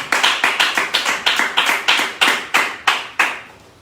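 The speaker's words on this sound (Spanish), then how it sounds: "Yo quiero darle un aplauso al Señor" A church congregation claps in praise during a Spanish-language Christian sermon: about a dozen sharp, evenly spaced handclaps in a steady rhythm, close and fairly loud, slowing slightly toward the end.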